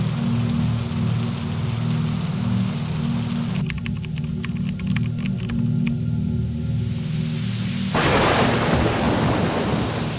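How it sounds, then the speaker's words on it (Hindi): Thunderstorm with lightning and heavy rain: constant dense downpour with deep rolling thunder, a crackling burst midway and a bright rush of rain surging louder near the end. "बिजली कड़कने के साथ ही तूफानी बारिश होने लगती है"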